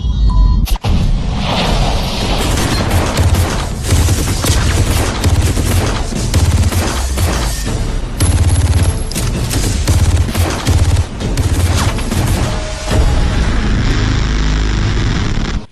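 A grenade explosion and bursts of gunfire in the video game Far Cry 3 hit loud and dense, with a sharp blast near the start followed by rapid overlapping shots and booms throughout.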